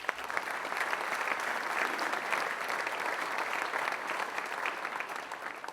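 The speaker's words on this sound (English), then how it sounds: "Give these folks a round of applause," Steady applause from an audience at a university real estate challenge event, honoring the architects, sustained at an even level throughout with no talk over it.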